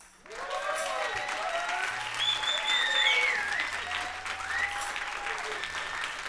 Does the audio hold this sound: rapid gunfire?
no